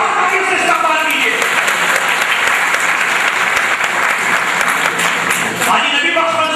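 Loud, sustained applause from a large crowd in a hall, dense clapping filling the whole stretch without pause.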